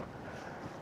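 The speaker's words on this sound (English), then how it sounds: "it's windy" Wind at a creek rushes and buffets the microphone in a low, steady roar, faint and brief with no other clear sounds.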